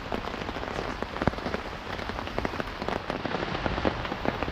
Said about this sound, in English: that rain is getting even worse now. It's absolutely pouring it down.